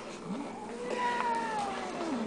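A grumpy cat gives several low, drawn-out growling meows at close range, rising and falling wails over quiet indoor background with no talk.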